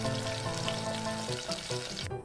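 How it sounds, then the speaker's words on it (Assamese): Chopped arum (colocasia) pieces fry in oil in a pan, a steady close sizzle with faint stirring scrapes near the end. "কচুখিনি ঢালি লৈ অকণমান সময়লৈ লৰাই লৈ ভাজি লৈছোঁ"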